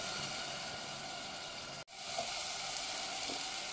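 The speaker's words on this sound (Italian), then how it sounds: "Un goccino di brodo vegetale che sto facendo sull'altro fornello e lasciamo cuocere un pochino la zucca" Pumpkin cooking in a pan with a splash of vegetable broth for a risotto, a steady close sizzle and bubbling that drops out briefly midway, then resumes.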